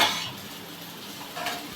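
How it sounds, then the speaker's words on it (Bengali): Potatoes with green chillies fry in a pan, a soft steady sizzle under occasional scrapes and clinks of a utensil against the metal, close and moderately loud, with no one talking. "আলু ভাজছে, কাঁচা লঙ্কা দিয়ে আলু ভাজছে"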